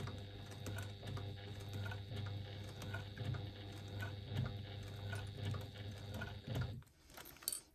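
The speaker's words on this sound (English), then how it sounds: "And very carefully and very slowly. Stitching at 1/8 of an inch." A sewing machine stitches slowly and carefully at a 1/8-inch seam on a wristlet, a steady mechanical hum with light repeating ticks that runs evenly for about seven seconds, then stops.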